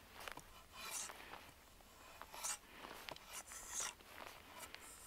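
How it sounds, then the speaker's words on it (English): A Bark River JX5 knife in CPM 3V steel is drawn across wood to raise shavings, making soft, repeated scraping strokes with faint hissing rasps, close and quiet, about four passes. "That's just from me setting the knife on and drawing."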